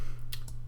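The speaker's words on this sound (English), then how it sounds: "So next is the scissors here" Spring-loaded scissors on an inexpensive, TSA-safe Leatherman-style multi-tool snap open with two short, close clicks about a tenth of a second apart over a steady low hum.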